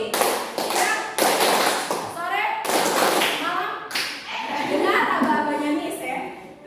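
A class of children claps together in a greeting clap game, giving sharp group bursts of hand claps separated by short pauses, while a teacher and children talk over and between the claps.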